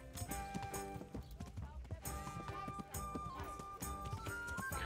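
A horse's hooves clop in a steady rhythmic gait while riding in Kingdom Come: Deliverance, medium-close and clear, layered with tonal game sound and no one talking.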